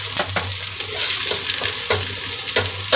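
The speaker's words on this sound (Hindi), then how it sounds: "ध्यान रहे आपको मटर फ्राई करनी है, ये प्याज के साथ साथ में फ्राई हो जाएगी" Peas, onion and green chili fry with cumin in a pan, with a steady broadband sizzle and repeated scraping stirs cutting through at irregular intervals, close and fairly loud.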